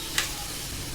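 Coriander, cumin, cloves, cinnamon and sesame seeds dry roasting in a pan for an egg masala give a soft, steady sizzle and rustle, with one brief tap near the start; no voices.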